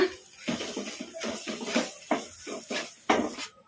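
Salt being stirred into a soya chunks masala in a pan, heard as repeated metallic spoon scrapes and clinks in an uneven rhythm, close and fairly loud, with no talking.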